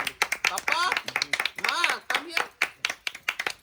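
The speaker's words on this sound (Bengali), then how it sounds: "জোরে জোরে হাততালি দাও" Several people clap their hands in quick, uneven bursts at a family gathering, the sharp claps close and lively while voices talk and call out over them throughout.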